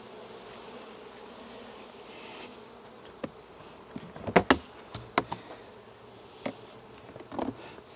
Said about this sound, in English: The bees are walking up the leg,